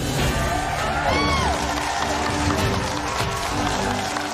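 Returning former contestants cheer in the MasterChef kitchen as a crowd, a loud, dense mix of whoops, shouts and clapping that runs unbroken through the whole moment.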